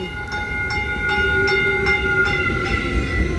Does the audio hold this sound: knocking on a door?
no